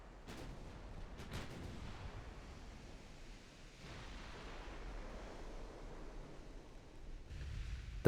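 Naval secondary guns in a game firing at a light cruiser, heard as a few sharp reports near the start and later, over a steady rumbling wash of distant battle noise and sea-like hiss.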